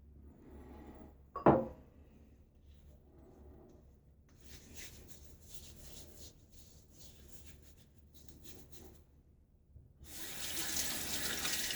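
A bathroom tap runs water while a face is wetted before shaving, with a soft splashing and trickle, one sharp knock early on, and a louder, steady gush of water at the end.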